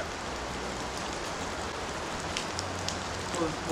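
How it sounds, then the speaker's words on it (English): Rain runoff dripping onto sandstone rock formations along a forest creek trail, heard as a steady, close wash of fine patter with a few brighter drips near the end. "The dripping rain runoff only enhanced this beauty."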